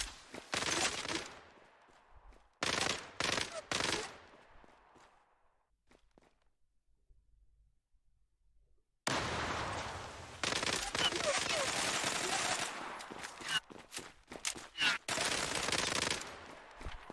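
Rapid automatic gunfire and shooting in the online shooter game Zula, loud sustained bursts with a long quieter gap in between, footstep sounds mixed in, and a voice talking over the action.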